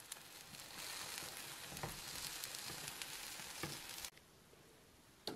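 A galette cooking in a pan on minimum heat, a quiet, even sizzle and crackle heard close, dropping abruptly to near silence toward the end.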